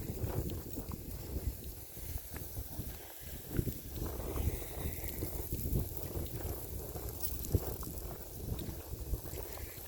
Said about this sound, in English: Again, wind, absolutely not helping.